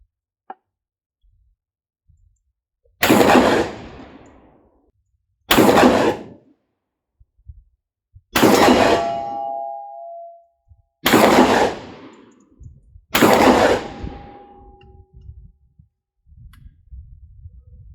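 Five loud, close shotgun blasts from a Hunt Group SCX-12 12-gauge semi-automatic, each a sharp crack with a ringing tail, spaced about two to three seconds apart with quiet gaps between, and no talk over them.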